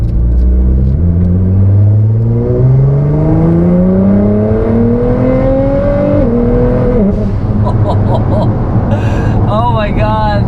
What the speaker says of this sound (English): I'm gonna do my best to give her the beans, and we'll go from there.